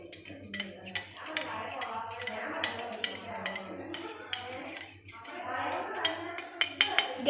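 A spoon stirs salt into a homemade cool drink in a glass or jug, with quick repeated clinks and scraping taps, close and fairly light, while a voice talks over it.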